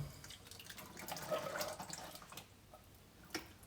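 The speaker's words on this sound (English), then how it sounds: "And we're gonna put the water in as well." Faint splashing and trickling of water being poured into a pot of black beans for chili, rising briefly then tapering off with a few drips.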